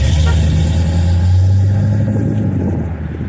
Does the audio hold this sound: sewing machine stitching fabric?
no